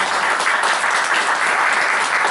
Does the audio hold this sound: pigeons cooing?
no